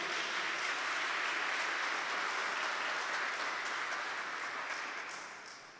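A congregation at a religious talk gives a sustained round of applause, a dense, even wash of clapping heard at a moderate distance that holds steady and then fades out at the end.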